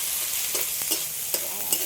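Chopped onion fries in a pan with a dense, steady hiss of sizzling up close, punctuated by a few light stirring clicks.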